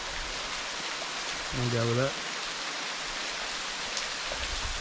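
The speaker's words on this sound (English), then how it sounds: "we've reached the waterfall." A steady rushing wash of falling water at Clematis Falls in the Grampians fills the scene, with a brief spoken phrase near the start.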